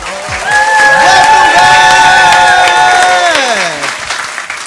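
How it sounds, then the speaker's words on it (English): A studio audience claps together for a few seconds, dense and loud, with cheering voices and whoops riding on top before the applause fades away. "That was hand claps for all of my American Sign Language fans"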